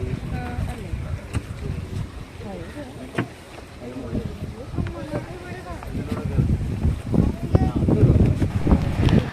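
A canoe glides through mangrove waters at Varkala, with wind buffeting the microphone and water sloshing close by, while people talk throughout.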